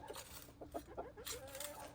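A chicken gives soft, low clucks in a short irregular series, faint and close against quiet background noise.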